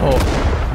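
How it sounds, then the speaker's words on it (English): Friendly napalm strike in the Vietnam shooter Rising Storm 2: Vietnam, a short loud rumbling blast heard up close with voices mixed underneath. "The friendly it's friendly napalm."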